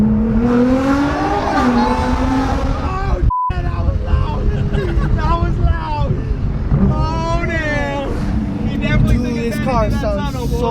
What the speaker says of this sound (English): This car sounds so good.